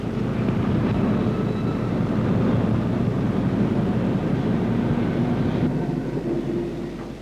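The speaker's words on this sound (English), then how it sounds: "As the train is moving along underneath, at low speed all the time" Coal train creeping at low speed beneath a loading chute, a steady broad rumble and grinding roar that stays loud and continuous throughout, easing slightly near the end.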